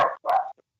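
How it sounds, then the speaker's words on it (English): A dog gives two quick, close barks, loud against a quiet background. "Well, our guest has a dog."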